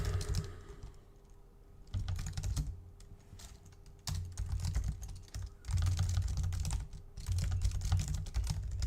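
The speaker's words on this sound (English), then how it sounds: "I'm typing the same line again." Rapid typing on a computer keyboard, quiet bursts of clicking keystrokes separated by short pauses, steady and close with a faint background hum and no talk.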